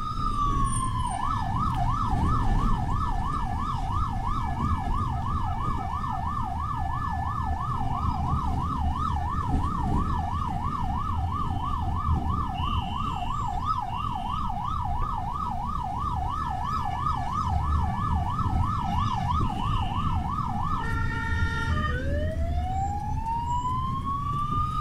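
A Belgian ambulance siren wails in Paris under a French police escort, cycling rapidly and steadily for about twenty seconds, briefly stopping, then rising again, loud over a low rumble of traffic.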